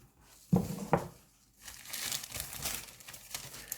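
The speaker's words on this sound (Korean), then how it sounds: "비닐 장갑을 착용을 하고" Thin plastic vinyl gloves crinkle as they are pulled onto hands, two sharp rustles followed by a longer stretch of softer, continuous crackling.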